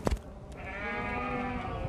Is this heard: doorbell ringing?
no